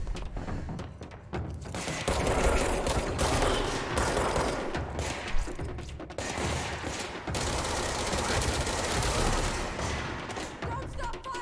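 In the video game Control, a dense, continuous fusillade of gunfire roars with rapid overlapping shots and thuds, loud and close throughout, briefly easing midway before the barrage resumes.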